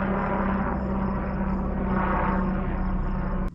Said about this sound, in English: Maybe the helicopter's coming to check out the bison.